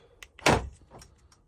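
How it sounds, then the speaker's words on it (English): Door locks on a 2024 Mercedes Sprinter van actuate with a sharp mechanical clack followed by a few faint clicks, close and otherwise quiet. "Lock."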